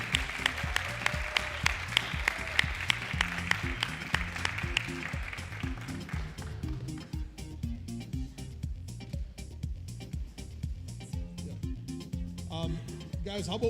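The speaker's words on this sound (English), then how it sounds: "Can we give a big round of applause for Big Bend and Prairie View?" Applause rises from an audience at a school district reading competition, strong for the first several seconds and then fading to scattered clapping, while an adult speaks over it.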